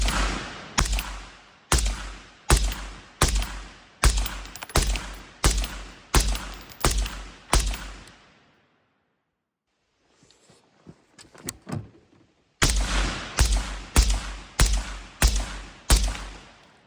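Suppressed gunshots through an older Dead Air Spear LT suppressor fire in a steady string of sharp, evenly spaced cracks. A pause with faint handling clatter follows, then another rapid string of shots.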